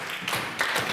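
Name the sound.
round of applause for Cecilia at a family dinner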